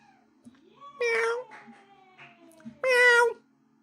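Two cats on a livestream meow in turn, a drawn-out call near the start and a second loud, clear meow about two seconds later, close to the microphone with quiet background between.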